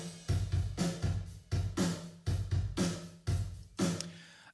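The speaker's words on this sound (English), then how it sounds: "so I try to mimic it a little bit with the Space Designer Verb" Drums played through a Logic Space Designer recording-room reverb, with no dry signal. Hits land in a steady groove, each followed by a roomy wash and tail, and the whole track sounds fairly quiet.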